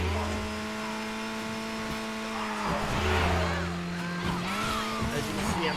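A car engine in Midnight Club LA revving through a double clutch, with a sustained droning engine note that dips, then climbs again, with some tire noise in between.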